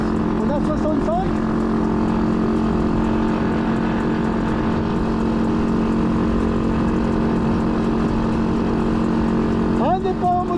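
A Masai 50 Black Road motorcycle cruising steadily on the road at around 60 to 65 km/h, with a continuous close engine drone and wind rush throughout and brief revving pitch shifts near the start and end.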